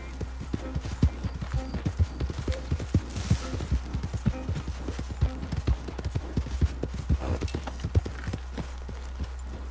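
Horse hooves clip-clopping at a steady walking pace in Red Dead Redemption 2, a series of crisp, fairly quiet hoofbeats over a low constant hum.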